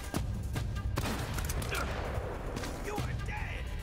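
Desert Eagle pistol fire in the video game Uncharted: Drake's Fortune, several sharp, loud shots spaced irregularly amid game ambience, with other crackling effects and faint talk.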